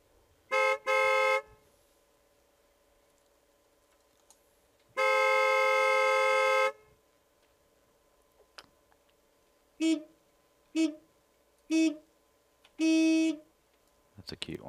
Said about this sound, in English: Sound on the horn.